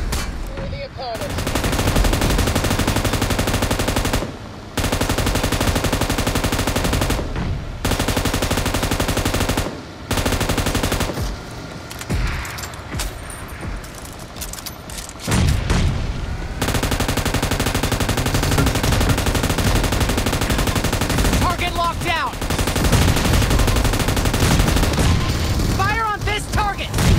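Gunfire in the mobile battle royale game PUBG Mobile, loud dense bursts of automatic rifle fire with short gaps, rapid fusillades and occasional booms filling most of the stretch.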